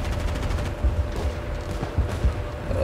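Pistol gunfire in the Medal of Honor video game, a series of sharp cracking shots at uneven intervals over a steady background of game ambience and distant battle noise.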